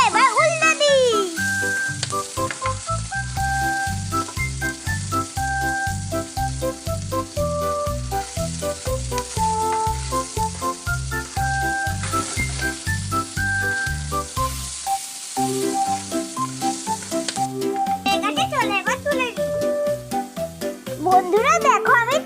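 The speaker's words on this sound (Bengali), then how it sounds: "চলো এবার লুচি ছেড়ে দিই একটা একটা করে" Luchi, puffed wheat flatbreads, fry in hot oil with a steady sizzle that runs throughout, partly under a child's speech and bright music.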